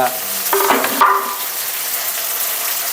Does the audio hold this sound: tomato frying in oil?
yes